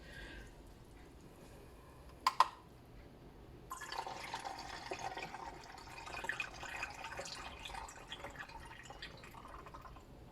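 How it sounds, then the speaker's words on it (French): About 200 ml of water is poured into a container for a homemade cleaning product, a couple of sharp clinks and then a steady close trickling pour that fills the rest. "je vais rajouter 200 millilitres d'eau"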